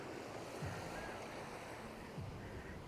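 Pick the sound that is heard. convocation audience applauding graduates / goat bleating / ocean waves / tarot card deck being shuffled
ocean waves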